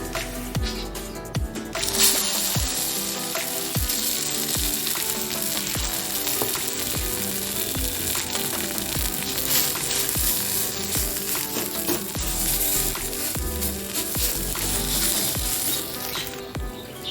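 Kharkol leaf paste frying in mustard oil in a pan, a continuous loud sizzle with frequent clinks and scrapes of a spatula stirring against the metal.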